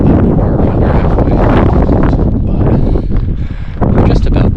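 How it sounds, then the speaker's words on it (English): Strong wind on a mountain hike along Bird Ridge, loud blustery gusts buffeting the microphone almost continuously with a brief lull near the end. "It's getting pretty windy, but it's not too bad."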